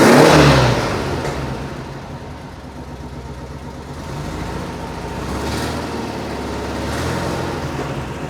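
The engine of a 1974 VW Bus revs loudly up close, surging at the start, then settling into a rough, fluctuating drone under throttle with no talking.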